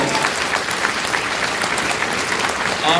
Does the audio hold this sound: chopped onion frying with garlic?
no